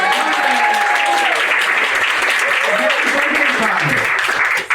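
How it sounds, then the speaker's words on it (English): An audience at a nightclub magic dinner-theatre show claps hands in a continuous dense burst, loud and close, with children's and adults' voices calling out over it before it cuts off. "How about let's all clap our hands?"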